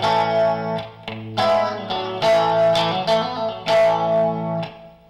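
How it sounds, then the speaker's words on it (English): Electric guitar through a 1997 Crate amp with middle and rear pickups engaged, warmer yet still twangy, strummed chords ringing with effects, several loud strums and sustained decays, alone. "that engages the middle pickup as well as the rear position pickup, and you get a little bit warmer sound."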